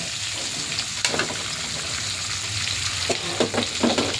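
Marinated pork belly sizzles steadily in a pan while it is stirred, with occasional scrapes and clacks of the utensil over the constant frying hiss.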